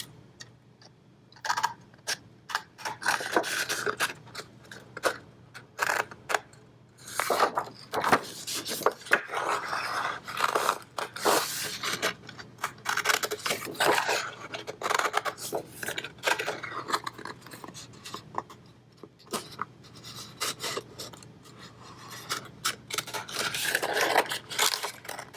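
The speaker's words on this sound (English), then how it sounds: "grab our scissors, and cut it out." Scissors cut through paper for a landscape paper lantern design, giving a run of crisp snipping and rustling bursts over about 25 seconds, close and fairly steady with brief pauses.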